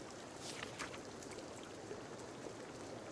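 Rain falls in the survival game Sons of the Forest as a steady, soft hiss of droplets with scattered brighter patters, faint and continuous with no voices.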